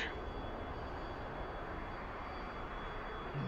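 A jet aircraft taxis in a flight video game, giving a steady, even engine roar with a faint high whine running through it. It is constant and moderately loud, with no talk.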